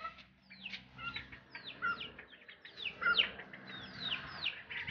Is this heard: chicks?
yes